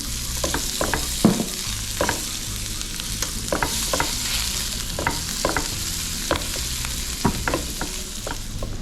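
Steady sizzling of margarine melting in a hot pan, with repeated clicks and scrapes of a utensil stirring at an irregular pace.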